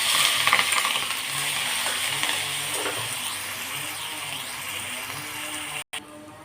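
Cumin tossed into crackling mustard seeds in hot oil, followed by garlic and green chili paste, giving a loud, dense, steady sizzle and spatter close by that drops out for a moment near the end.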